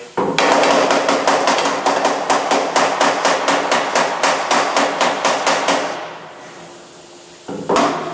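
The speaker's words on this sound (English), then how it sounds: "I'm going to have to hammer and dolly some of this back down" Rapid metallic hammer strikes with a hammer and dolly on a Camaro frame rail ring out in a steady run of about two dozen blows, close and loud, then stop, with one last tap near the end.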